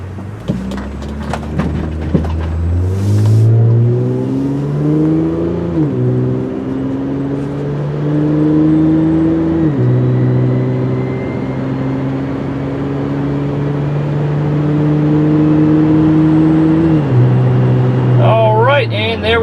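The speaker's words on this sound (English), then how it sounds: "it does have an exhaust, a loud exhaust" A 2004 Honda Odyssey minivan's loud engine drones with a deep, throaty exhaust rumble, revving up and shifting pitch several times while driving.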